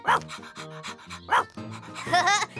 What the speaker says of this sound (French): Rex est un chien de berger.